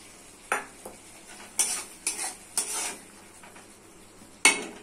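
Chopped tomato goes into a pan of cooked-down masala, heard as a few sharp metal clanks and scrapes of a spoon against the pan over a soft low sizzle, with quiet gaps between the strikes.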